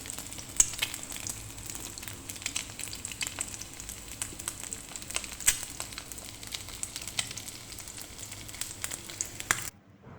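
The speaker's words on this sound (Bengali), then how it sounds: "তারপর এগুলি নেড়ে হালকা বাদামি করে ভেজে নিব" Onions and green chilies fry in hot oil in a frying pan while being stirred, giving a soft, steady sizzle with scattered small pops and spatula scrapes, fairly faint, with no voices, ending abruptly.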